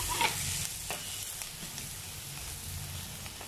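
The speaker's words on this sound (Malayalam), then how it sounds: "ഇനി നമുക്ക് ഇതിലേക്കൊരു 3 പച്ചമുളക് ഞാൻ കീറി വെച്ചത് അത് അതിനകത്തോട്ട് ആഡ്" A quiet, steady sizzle comes from a Kerala prawn curry base frying in a pan as slit green chillies are added, with a few soft stirring scrapes near the start.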